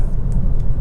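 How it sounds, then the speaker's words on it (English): A Honda Civic 1.8 i-VTEC SR Tourer engine idles with a steady low rumble that stays smooth and even across the short stretch, close and loud, with no voices. "engine starts instantly, settles to smooth, even idle"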